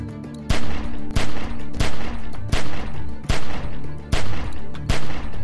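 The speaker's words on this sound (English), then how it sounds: "Just shoot at the window and keep that fucker's head down till I get where I'm going." Gunfire aimed at a window in the video game The Walking Dead: 400 Days, a loud, close, rapid string of about ten shots fired at a steady pace over ongoing background noise.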